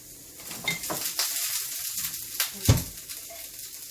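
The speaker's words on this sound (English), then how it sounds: "We're gonna let that simmer." Black bean and sweet potato enchilada filling simmers in a pan with a steady, close sizzle, broken by a few clanks of a spoon stirring against the pan.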